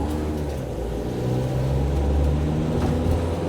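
An LDV courier van is driving with worn brakes that grind, heard as a loud, continuous low rumble and engine drone under a rough scraping noise, close to the listener and without speech.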